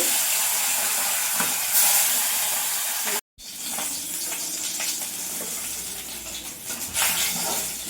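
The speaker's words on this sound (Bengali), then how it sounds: "মাছ ভাজা হয়ে গেছে" Fish frying in a pan of oil with a dense, steady sizzle and hiss nearby, briefly cut off by a short gap before resuming with light stirring.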